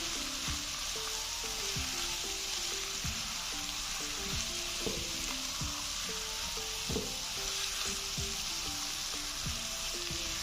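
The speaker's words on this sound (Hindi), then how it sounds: "इसको अच्छी तरह मिक्स करेंगे।" Tinda being fried with masala in a pan, a continuous sizzle under repeated spoon scrapes and taps at an irregular rhythm, close and steady, with no voices.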